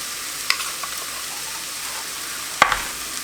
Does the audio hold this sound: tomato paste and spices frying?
yes